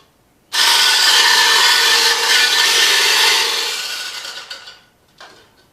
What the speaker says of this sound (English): we'll whisk our egg yolks until they're nice and pale